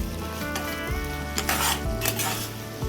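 Capsicum, salted, fries in a pan with a close, steady sizzle, broken by scraping stirs and a few clinks of utensil against metal.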